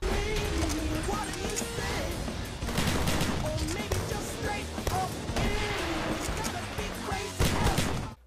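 Sniper rifle shots ring out in Call of Duty Black Ops 2 multiplayer, including the Ballista, as several loud sharp cracks over dense battlefield noise, with a background voice and music in the mix.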